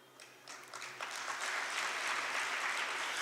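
Audience applause fills a hall after a rendition of Vande Mataram is recounted during a speech in Dongargad, starting in scattered claps and swelling into a steady, dense ovation that holds loud to the end.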